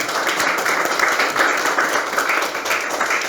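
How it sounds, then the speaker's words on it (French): Dense, steady clapping from a church congregation, continuous and fairly loud throughout with no pauses. "Applaudissons pour glorifier."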